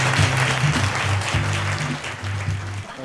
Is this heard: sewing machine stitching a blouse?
no